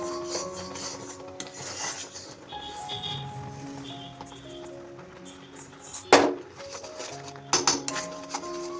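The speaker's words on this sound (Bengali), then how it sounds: "এদিকে আমি চাচিটা ঘাটছি" A utensil scrapes and stirs milk residue in a pot as it thickens, with rasping rubs, light clinks and a couple of sharp knocks against the metal, close up.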